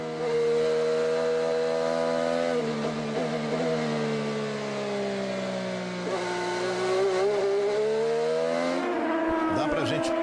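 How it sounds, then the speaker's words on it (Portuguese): A high-pitched IndyCar engine screams continuously at the Mid-Ohio Grand Prix, its tone rising and falling through gear changes as it speeds past and away. "Perceber pelo barulho do motor, nessa sinfonia do motor da Fórmula Indy, o Chevrolet do Tony, como o piloto trabalha"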